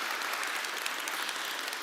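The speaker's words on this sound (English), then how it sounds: "Let's make a round of applause for our Platinum Partners." Steady, dense applause from a forum audience at a transport innovation event's opening ceremony, loud and continuous throughout with no voices over it.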